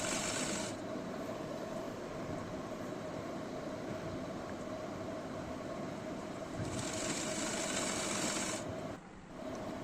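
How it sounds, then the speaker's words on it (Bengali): Sewing machine stitching the belt onto plazo trousers, a steady close mechanical whir and chatter that runs continuously and briefly stops near the end. "দেখুন কিভাবে এবারে বেল্টটা সেলাই করব।"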